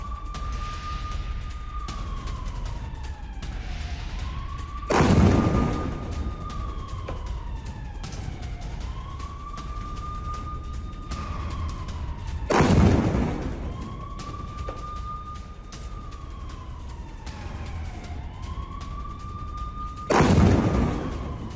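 An air-raid siren during a missile attack on Tel Aviv wails in long rising and falling cycles, while three heavy explosions boom at regular intervals, loud and close against a constant background rumble.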